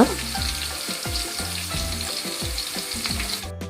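Onions and green chillies sizzle steadily in hot oil for a village-style chicken biryani, with repeated scraping knocks of a ladle stirring the pan, close and continuous.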